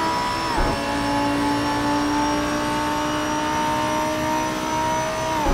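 Racing car engine in a driving video game pushed flat out at full throttle, a loud sustained high whine that drops briefly on a gear change, then climbs steadily again.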